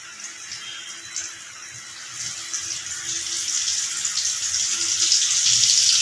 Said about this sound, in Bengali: তেলটা গরম হয়ে গেছে আমি এইগুলো তেলে ছেড়ে দেব